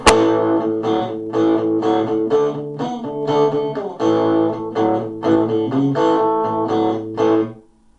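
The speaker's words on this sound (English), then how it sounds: "Now let's get some 60s overdrive." Electric guitar with a gritty overdrive tone plays a sequence of chords and notes, steady and fairly loud, ending as it cuts off.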